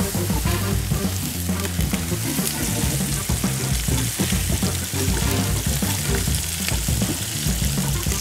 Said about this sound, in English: we are gonna sear off these short ribs